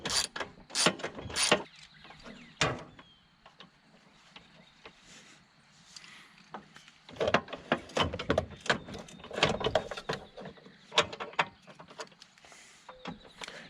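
A ratchet wrench works a 7/16 inch bolt on a Husqvarna LC22 all-wheel-drive mower, giving close, sharp bursts of clicking near the start and again from about seven seconds, with a quieter gap in between.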